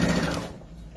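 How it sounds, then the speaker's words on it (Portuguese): A sewing machine stitches patchwork fabric to the end of a seam, a fairly loud, steady run that tapers off toward the end of the second. "Costuro até o final."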